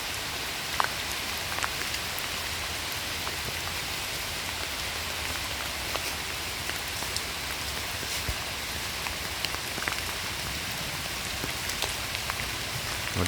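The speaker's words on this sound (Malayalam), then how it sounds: "നല്ല മഴയാണ്" Heavy rain pours steadily outdoors, a dense, even hiss of drops drumming on surfaces throughout, with no voices and a few sharper splatters now and then.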